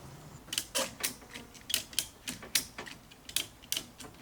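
A hand ratchet clicks in a steady series of sharp, close ratcheting strokes as it pulls a car headlight back into place, each click distinct and moderately quiet.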